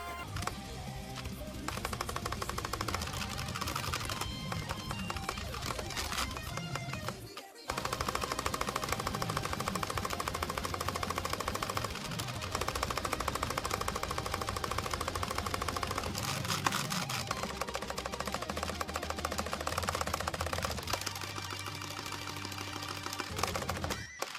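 Rhythm game gameplay: dense, loud, continuous electronic music with rapid percussive hits and clicky beats, one brief dropout partway through.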